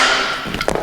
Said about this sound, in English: sometimes you got to get a hammer and tap on it to get this out